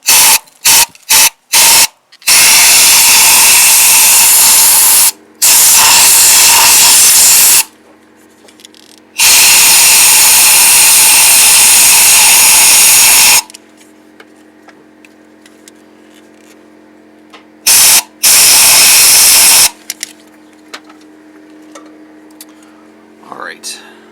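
Compressed air blower blasting dirt from a spark plug hole on a Ford F150 5.4 engine, several loud hissing bursts of varying length separated by quieter gaps with faint background noise.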